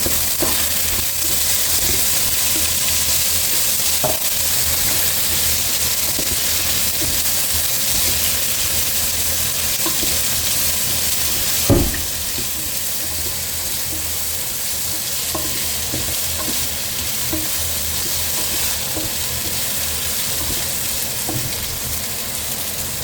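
Potatoes sautéing in a pan for squid curry, a continuous loud sizzle with scattered light clicks of stirring and one sharp knock midway, close-up with no talking.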